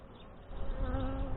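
Honey bees swarm around an open hive during an inspection, giving a steady, close, droning buzz that swells slightly partway through, with no voices.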